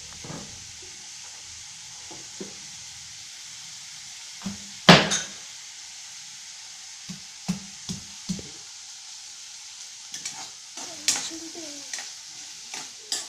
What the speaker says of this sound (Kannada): ಇದನ್ನು ಚೆನ್ನಾಗಿ ಹುಡ್ಕೋಬೇಕು ಎಣ್ಣೆ ಜಾಸ್ತಿ ಹಾಕ್ಕೊಂಡು ಹುಡ್ಕೋಬೇಕು